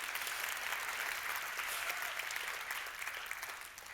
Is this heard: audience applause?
yes